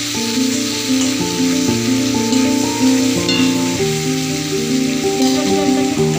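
Pomfret fish frying in oil in a pan, with a steady, loud sizzle that continues throughout, while music plays along underneath.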